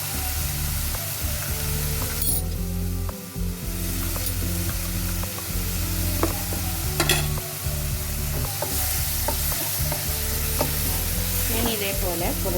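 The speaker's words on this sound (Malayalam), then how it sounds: "ഇപ്പോൾ മഷ്റൂം ഈ പരിപാടിയിൽ നന്നായി വാട്ടി ഈ സമയത്ത് നമുക്ക് കുറച്ച് പെപ്പർ പൊടി ഇട്ടു." Mushrooms sautéing in a pan for peri peri pasta, a steady close sizzle with repeated scraping and clinks of a spoon stirring against the pan, no talking.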